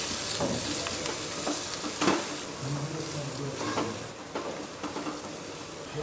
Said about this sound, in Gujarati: હવે બધું જ બરાબર મિક્સ કરી લઈએ